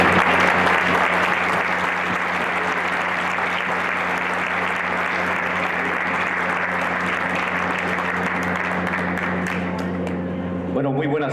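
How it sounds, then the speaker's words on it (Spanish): Audience applause at a public talk by Álvaro García Linera, loud sustained clapping from a crowd that lasts nearly the whole clip and then stops abruptly at the end. "Un aplauso."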